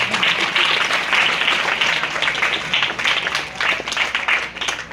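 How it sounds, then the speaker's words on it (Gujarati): A crowd of students clapping at a school admission festival, loud sustained applause with rippling bursts of claps that carry on for several seconds. "દરેક વિદ્યાર્થીઓ 3 તાળીઓથી આ પ્રવેશને આપણે વધાવી લઈએ"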